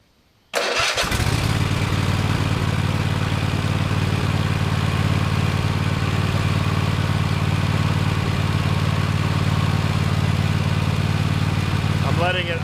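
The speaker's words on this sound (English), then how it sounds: "Letting it idle down kind of low at first so that it'll build up pressure." A Cub Cadet XT1 LT46 lawn tractor engine starts after a short quiet moment, then idles loud and steady with a low, even chug close by.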